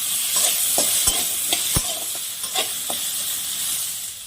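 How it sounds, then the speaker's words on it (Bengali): Potatoes with turmeric frying in hot oil, a loud continuous sizzle and hiss with occasional soft stirring knocks of a utensil, close up and without voices. "এবার আলুটাকেও হালকা ভেজে নেব।"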